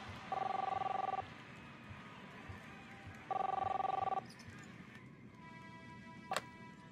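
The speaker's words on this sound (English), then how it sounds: "Chris, answer the phone" Telephone ringing in the video game Captain Spirit, two clear electronic ring bursts about two seconds apart at moderate level over a quiet room background, followed by a brief click.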